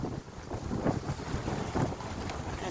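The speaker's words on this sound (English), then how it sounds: "It's a windy day in Bermuda" Steady wind gusts buffet the microphone on a windy day along the Bermuda coast, in pulsing surges that rise and fall with no talking.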